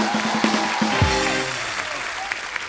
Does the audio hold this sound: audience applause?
yes